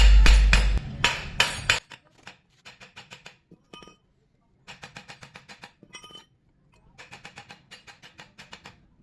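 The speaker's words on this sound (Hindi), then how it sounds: "अब सामने साइड को हथौड़ी से धीरे धीरे मारेंगे" Light hammer taps on the front end of a V6 3 HP three-phase submersible motor casing during disassembly, ringing metallic clinks in quick bursts with short pauses between groups, loudest in the opening seconds.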